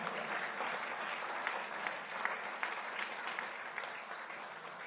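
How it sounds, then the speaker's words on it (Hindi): An audience at a public political dialogue event in Delhi claps in a sustained burst of fairly faint, even applause lasting several seconds, heard without speech. "भाई ताली बजानी तो जोर से बजाओ"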